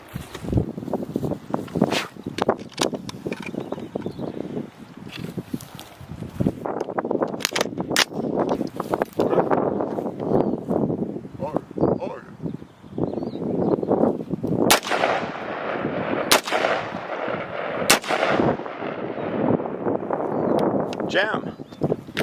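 Galil ARM rifle shots ring out outdoors, several sharp loud cracks spaced irregularly with echoing tails, amid wind, handling noise and people talking.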